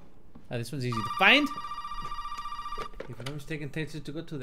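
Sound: telephone ringing in Resident Evil 7 video game

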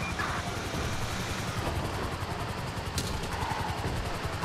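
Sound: police helicopter in the video game GTA V

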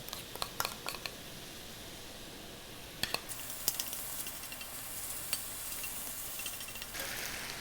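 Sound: stir-frying oyster mushrooms, onion and carrot with gochujang sauce

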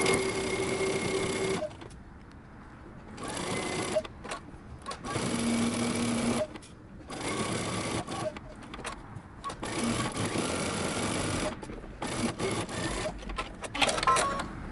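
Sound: sewing machine edge stitching a cardigan pocket

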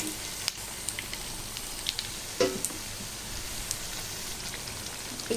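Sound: taro root vada frying in oil

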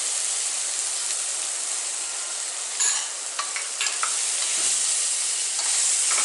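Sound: sautéing ginger garlic paste with turmeric in pan

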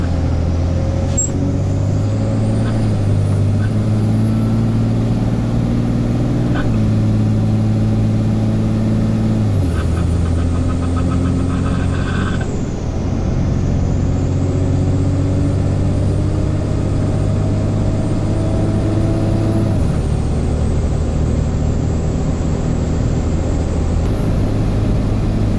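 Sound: Cummins diesel-swapped Ford truck driving on the road

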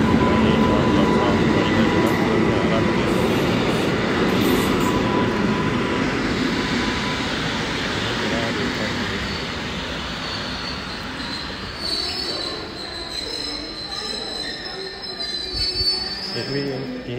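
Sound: train at a station in Poland

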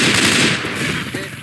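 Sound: gunfire in video game Left 4 Dead 2

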